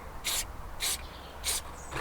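Short hissing bursts from an aerosol paint can sprayed onto a car, four quick puffs spaced about half a second apart, fairly quiet and close with little else around them.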